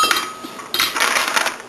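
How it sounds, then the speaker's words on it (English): Ice cubes clink and rattle as they are dropped into a blender jar, a quick run of bright, close clinks with a second burst of jingling partway through. "First, we're going to take some ice cubes."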